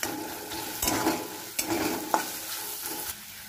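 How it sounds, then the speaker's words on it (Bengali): Ginger-garlic paste being stir-fried in a pan for bhindi do pyaza, with steady sizzling and a few louder scraping stirs of the spatula, close and alone without talk. "আদা রসুন বাটাটা দিয়ে একটু ভালো করে কষাবো"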